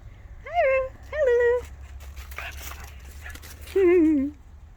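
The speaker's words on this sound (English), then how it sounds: "Ratchet is the brown dog, the Sheltie, and the little Aussie puppy is my niece." A Sheltie and an Australian Shepherd puppy whimper in the snow: two high, whiny yelps close together, a pause with faint shuffling, then a longer, drawn-out whine, all close and clear.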